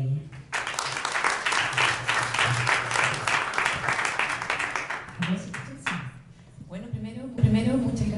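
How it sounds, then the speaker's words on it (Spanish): A crowd applauds a speaker at a university science and innovation fair, steady dense clapping from a large indoor audience lasting several seconds, then thinning as a voice begins to speak. "Un aplauso para ella."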